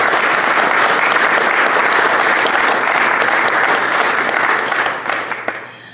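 An audience at an arts awards gala in Labrador City breaks into loud, sustained applause that rings on for several seconds, then thins out to a few scattered claps at the end.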